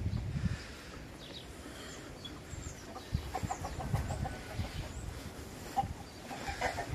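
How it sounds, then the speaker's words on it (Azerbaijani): Chickens cluck in a garden coop at a country house yard, soft intermittent clucks and scratching close by over a low outdoor hum, with a few brief louder calls. "Baxın, bax, toyuqlar burada hal-hazırda yumurtlayır burada"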